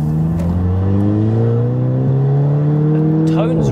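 A tuned 506 bhp MK7 Golf GTI Clubsport revs hard, its engine and exhaust tone climbing steadily and loudly, close by, with a brief dip midway and a burst at the end.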